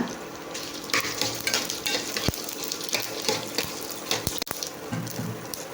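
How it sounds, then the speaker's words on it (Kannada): Coriander seeds and green chillies fry steadily in hot oil for a bendekai chutney, a continuous close sizzle broken by a few sharp clicks of stirring. "ಧನಿಯಾ ಬೀಜ ಮತ್ತು ಮೆಣಸಿನ್ಕಾಯಿ ಚೆನ್ನಾಗಿ ಫ್ರೈ ಮಾಡ್ಕೊಳ್ಳೋಣ."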